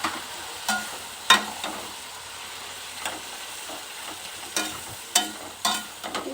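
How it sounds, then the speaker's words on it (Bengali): Boiled potatoes and peas hitting a spice mixture in a pan for ghugni, giving a soft steady sizzle with a few sharp clattering stirs spaced through the clip, close by and with no talking. "মশলাটা কষানো হয়ে গিয়েছে, এবার আলু আর মটরের সেদ্ধটা দিয়ে দিলাম।"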